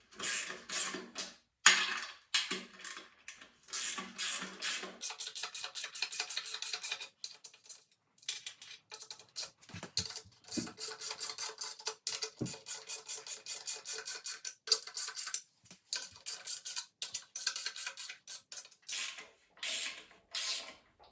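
Up close, a ratchet clicks as grade 8 bolts with lock washers fasten the transmission into a 1970 Chevelle during a 454 engine install, in repeated bursts of quick metallic clicks and creaks separated by short pauses.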